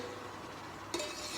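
A spoon stirs salted water in a cooking pot as it heats for steamed rice, a faint soft scrape followed by a short metallic clink near the end over low background hiss.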